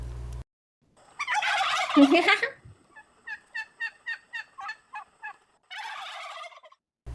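Loud turkey gobbling used as a radio drama sound effect for a countryside farmyard scene: a long throaty burst, then a run of quick rhythmic gobbles and a final burst, heard alone without talk.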